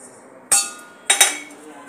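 A metal spoon clinks against a bowl while ground coriander, oregano and other spices are mixed: one sharp clink, then a quick double clink a moment later, close and fairly loud over a quiet background.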